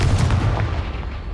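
A heavy, booming blast from the Confringo spell in Hogwarts Legacy gameplay, loud and close with a deep rumbling body that carries through the short moment without any talk.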